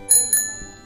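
A bicycle bell on a morning ride rings twice in quick succession, a bright, close metallic tring-tring that decays within a second.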